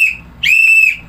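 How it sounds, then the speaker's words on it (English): A tour guide's whistle sounds once, a clear steady shrill tone of about half a second rising out of a quiet background, loud and close. "if I whistle once, your time starts now"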